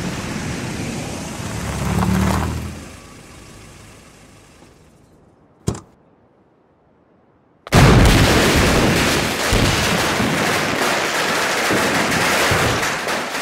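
Firecrackers go off in a dense, continuous crackling barrage with sharp pops that sound like gunfire. A single loud crack comes first, then a short near-silence, and the popping bursts back in and rolls on without stopping.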